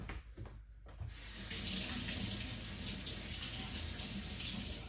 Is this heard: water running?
yes